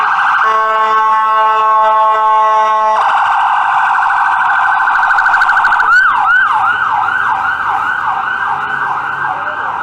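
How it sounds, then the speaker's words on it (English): An ambulance siren blares on a downtown Toronto street near Church and Wellesley, first a steady loud tone for several seconds, then switching to a rapid rising-falling wail that continues, close and dominant over faint street noise. "that ambulance was blaring its sirens"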